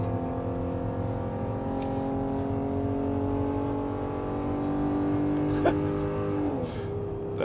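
A Ram 1500 pickup engine revs hard to about 6000 RPM while towing a trailer uphill, a steady loud drone with rising harmonics and a brief rev change near the end, no talk over it.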